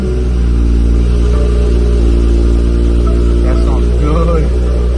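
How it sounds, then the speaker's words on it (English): A BMW B58 engine with a catless downpipe and open exhaust valve runs after a cold start, a loud, constant low rumble and hum with a voice talking over it. "Let's hear this start up with the exhaust valve open. Cold start."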